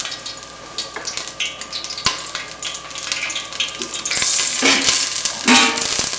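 Mirepoix vegetables sweat in a stainless steel ice bucket used as a cooking pot, a steady sizzle and crackle with scattered sharp clicks of stirring, growing busier and hissier in the last seconds.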